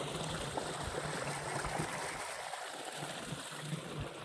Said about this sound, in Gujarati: આ ધોરી થઈને પછી તે પાણી જાય છે